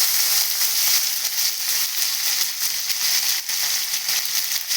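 Tomatoes saute in a pan for egg curry, giving a bright, dense, continuous sizzle up close with faint stirring and no talk.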